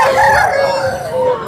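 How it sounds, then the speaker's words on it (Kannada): A rooster at the Chintamani poultry market crows close and loud in a single drawn-out cock-a-doodle-doo call, with faint market bustle underneath. "ಇಲ್ಲೊಂದು ಹುಂಜ ಇದೆ"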